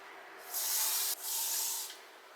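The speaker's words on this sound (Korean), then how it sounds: "원래 저는 스프레이는 잘 안 뿌리는데 험이 오래 갔으면 하는 마음으로 살짝 뿌려줍니다." Hairspray sprayed onto permed, tightly curled hippie-style hair in two close, steady hissing bursts, the first about half a second long before a brief break and the second slightly shorter, with no talking.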